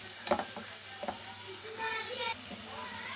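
Fried masala mixed with fresh coriander in a pan, a spoon scraping and stirring against a low steady sizzle, with a few sharper clinks.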